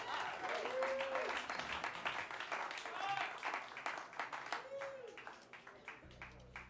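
An audience claps and applauds at a live blues show by a band with a guest performer at The Fallout Shelter, with steady, moderately loud clapping that gradually thins out while a voice speaks over it.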